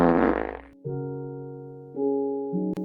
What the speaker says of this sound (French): Pets de vache, pets de vache,